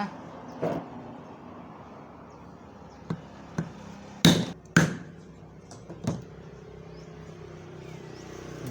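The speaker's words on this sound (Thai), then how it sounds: "แล้วเราก็ใช้ค้อนตอกนะ" A hammer taps the bearing cover of a Hatari table fan, giving several sharp, close metallic knocks at uneven intervals, with two louder strikes in quick succession midway and quieter taps around them.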